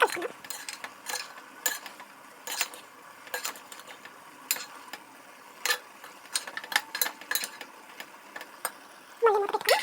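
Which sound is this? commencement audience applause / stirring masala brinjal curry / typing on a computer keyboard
stirring masala brinjal curry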